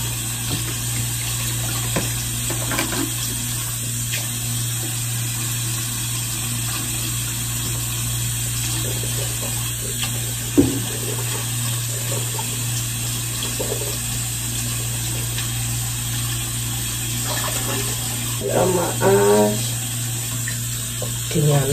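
Bathroom tap water runs steadily during a morning routine, with face washing at a sink and a continuous hiss and occasional splashes close by.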